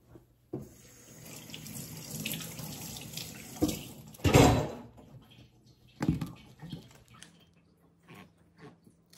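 Food is rinsed under a running kitchen tap while taco dinner is being prepared, the water splashing in uneven bursts with a strong gush near the middle and a few clatters in between.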